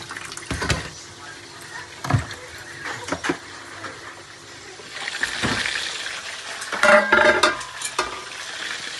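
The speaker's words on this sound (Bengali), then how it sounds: "ওই গেছে চিকেন ভাজা" Chicken frying in a pan with everyday home masala, a soft continuous sizzle broken by scraping stir strokes and a few louder clatters, with some watery splashing toward the end.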